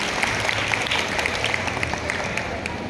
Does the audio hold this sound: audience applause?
yes